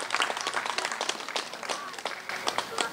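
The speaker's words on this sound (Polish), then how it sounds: "gromkie oklaski dla zawodniczek, za wysiłek i przyjemny pokaz gry" A crowd at the opening of new tennis courts in Sędziszów Młp. claps steadily for the players after a match, with dense, moderately loud applause throughout.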